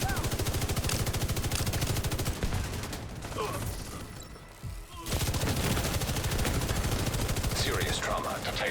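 Rapid automatic gunfire from a shooter video game rattles in dense, loud bursts, breaking off for about two seconds midway before the sustained firing resumes, with a voice talking over parts of it.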